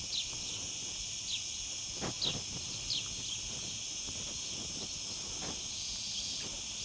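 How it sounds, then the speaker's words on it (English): A steady high-pitched drone of cicadas fills the background, with faint chirps and scattered soft rustles over a quiet outdoor ambience in Mallorca. "I sense a wave of cicada sound coming back our way."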